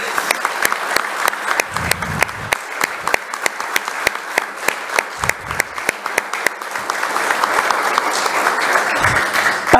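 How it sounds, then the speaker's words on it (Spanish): An audience at a Women's Day launch event applauds women basketball players. Sharp individual claps start out sparse and build into fuller, denser clapping that swells toward the end, with a little background voice now and then. "el aplauso de ahora es para nuestras jugadoras de básquet"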